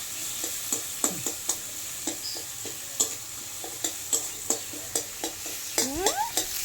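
Onions and chillies frying in a pan, a steady sizzle broken by repeated clinking stirs of a spatula at a fairly even rhythm, with a brief squeaky scrape near the end.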